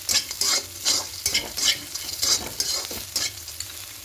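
Bitter gourd and potatoes frying with crushed lentil dumplings get stirred in a pan, a steady rhythmic scraping over a constant close sizzle, no voices.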